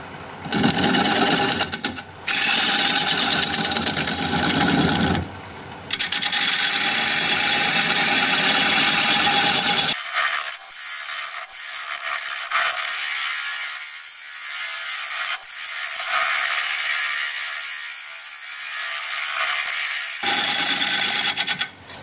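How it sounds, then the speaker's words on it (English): Chisel cutting manzanita wood on a lathe: a loud, steady grinding and scraping roar near the microphone that drops out briefly a few times, then continues as a thinner high hiss with the low rumble gone. "Now I can get my chisel in there"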